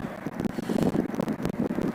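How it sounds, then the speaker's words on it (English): Gusty wind buffeting the microphone on a chilly afternoon at a cricket match in Canberra, Australia, a rough irregular rumble with choppy bursts running throughout, loud and close. "Starting to get a bit windy and chilly though"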